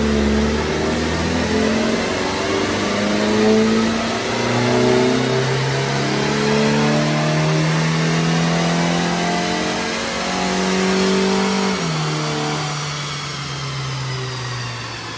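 A 2014 VW MK6 Jetta S with a 2.0L engine revving through the gears on a dyno run, loud and close, pitch climbing repeatedly with shifts before easing off near the end.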